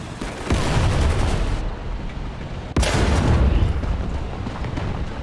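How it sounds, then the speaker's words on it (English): Artillery fire in the War Thunder tank game lands in repeated heavy booms and rumbling blasts, with a sharp loud impact midway over continuous battle noise. "Oh, there's artillery here."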